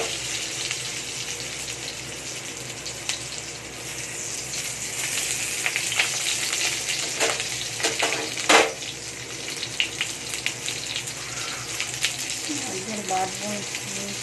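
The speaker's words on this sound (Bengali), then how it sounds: "আলুটা আগে ভেজে নিচ্ছে।" Potatoes frying in hot oil give off a steady, close sizzling hiss throughout, with scattered crackles and small pops and one louder burst about midway.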